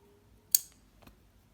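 Scissors snip through yarn during a crochet or knitting project: one sharp close snip, then a softer click a half second later, in a quiet room with no talking.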